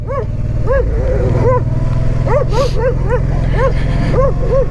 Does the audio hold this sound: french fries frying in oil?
no